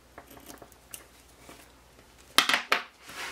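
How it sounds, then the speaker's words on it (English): Scissors snip washi tape close by while decorating a planner page, with faint handling noise followed by a few sharper cuts near the end. "so I'm actually probably going to cut it a little."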